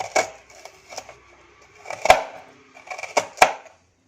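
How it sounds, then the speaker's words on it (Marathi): A knife chops fresh ginger finely on a board in a home kitchen, giving about six crisp, separate thuds at uneven intervals with quiet gaps between them. "या पद्धतीने आपण सगळंच आलं कट करून घेऊया"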